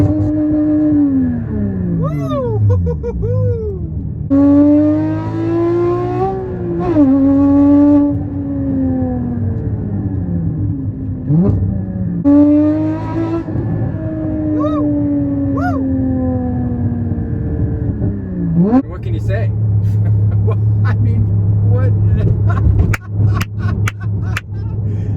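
A Porsche GT4 engine revs loudly and close by, pitch climbing and falling through repeated throttle blips and gear changes, with a deep steady drone settling in near the end.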